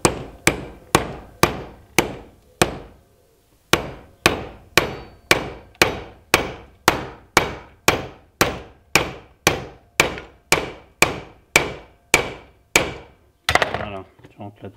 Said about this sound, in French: Ensuite, tu prends ton marteau,